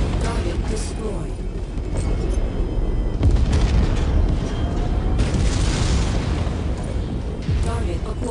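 Missile explosions in the MechWarrior 5 video game: a continuous, loud wash of booming blasts and rumbling impacts with dense low-end roar, under intermittent game voice callouts.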